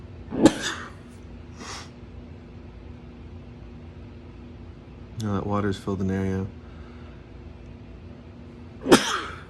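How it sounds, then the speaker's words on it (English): Two sharp sneezes burst out at the start, with a louder one at the end; someone briefly talks in between over a faint background hum. "Heater's making me sneeze."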